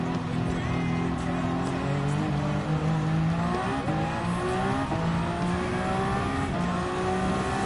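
Gr.1 prototype race car engines in Gran Turismo 7 at Fuji International, a loud, sustained engine roar with rising revs and overlapping harmonics from nearby cars, no talking.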